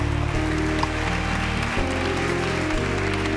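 A church congregation clapping their hands in praise during a service, a steady wash of claps blended with sustained organ or keyboard chords throughout.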